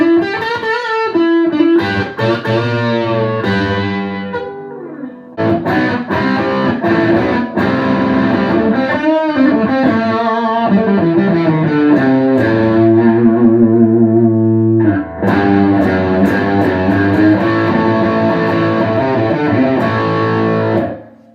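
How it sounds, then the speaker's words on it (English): An electric guitar played through a Boss Katana 50 amplifier on its blues overdrive setting, with the gain turned high. It plays loud, continuous chords and sustained notes with a gritty, distorted tone and some feedback, with no voices. "So that is that looks like the blues overdrive."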